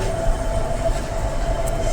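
A train rumbles through a railway station in Tandur with a steady, close, low roar and a faint high whine, heard throughout without any talking.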